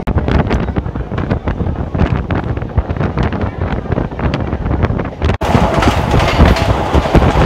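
Strong wind roars through the open windows of a moving Howrah–Digha local train, buffeting the microphone loudly and steadily, with the rumble of the carriage underneath.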